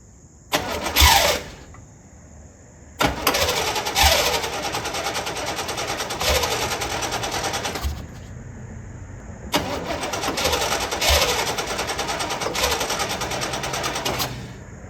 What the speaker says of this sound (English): That starter's weak.